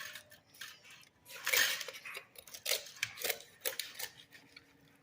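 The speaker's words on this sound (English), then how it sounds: "We're going to continue cutting this. Probably be using a knife, as it seems to be working better on this turkey." A knife cuts the backbone out of a smoked turkey, giving quiet, close crunches and snaps of bone and skin in short irregular bursts, with no talking.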